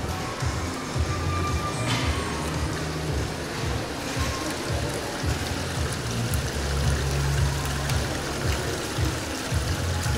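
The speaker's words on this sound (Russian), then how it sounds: "Это бежит вода." Water running through thin tubes of different diameters in a public place in Paphos, heard as a steady broad wash with low rumble throughout, fairly loud and continuous, with no talk.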